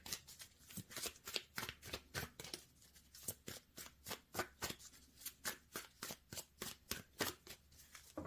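Tarot cards shuffled by hand in a steady run of quick, crisp riffling flutters, close and moderately loud, with no voices.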